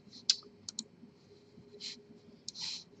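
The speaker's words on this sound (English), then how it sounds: "So what we need to do is open up SiMetrix, click on the icon," Quiet, close computer mouse clicks opening a program icon, a few light taps scattered across a few seconds over a faint room hiss, with no talk.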